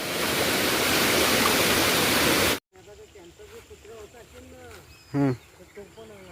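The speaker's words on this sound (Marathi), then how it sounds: "गड नदी आहे ना ही" The Gad river flows past Dhamapur village with a loud, steady rush of water that cuts off abruptly partway through. Quieter outdoor sounds and a brief burst of noise follow the cut.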